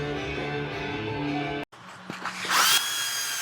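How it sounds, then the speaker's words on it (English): Power sanding on a glued-up wooden cutting board, edge and end grain hardwood, with a steady broadband motor whine that cuts out briefly, then resumes with a louder, rougher abrasive rasp against the wood. "Here you're going to see at 20 times speed me sanding this one board."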